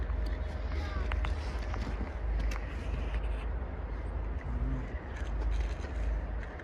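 Steady wind buffeting outdoors in a park at -20 degrees, a continuous low rumble with gusty swells, while a voice talks faintly in the background.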